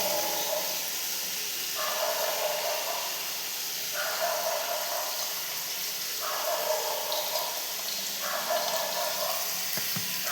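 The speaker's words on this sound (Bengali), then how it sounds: "চাউমিনগুলো সেদ্ধ করে নিয়েছি, জলটা গেলে ফেলে নেব।" Boiled chow mein noodles drained of their water, a soft continuous hissing pour with gentle rhythmic swells every couple of seconds, fairly quiet and close.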